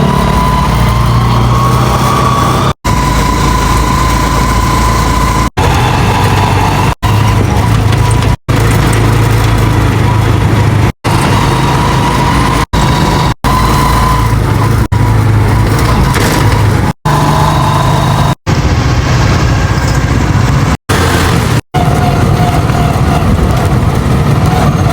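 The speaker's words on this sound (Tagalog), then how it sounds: "sasakay tayo ng tricycle" Motorized tricycle engine on a ride to the market, a steady loud buzzing drone with road noise throughout, briefly cut by short gaps.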